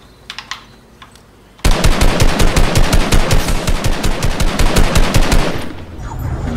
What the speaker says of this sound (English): I missed all my shots at the body.